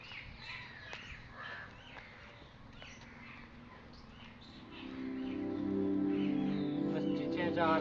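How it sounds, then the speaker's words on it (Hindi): Birds chirp and call in the open grounds of Raskhan's tomb in Mathura, with scattered short calls over a low background hum that grows louder near the end. "बस चहचहा रहे हैं, और पक्षियों की आवाज़"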